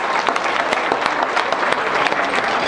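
Guests at a political fundraising dinner give sustained applause, a thick continuous patter of many hands at steady volume with no speech over it.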